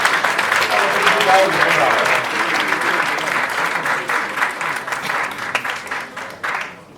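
An audience at a Cameroonian higher-education ceremony applauds the minister, steady dense clapping that holds loud throughout before thinning slightly at the end, with voices mixed in.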